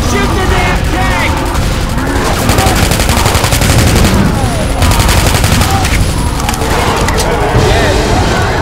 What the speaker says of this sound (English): Shoot the damn tank!